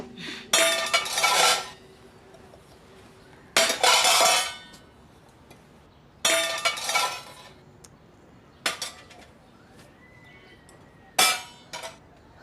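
Pots, pans and dishes bang and clatter in a domestic kitchen in loud, harsh bursts, five separate clusters spaced a few seconds apart with quiet gaps between them, close by and with no talk.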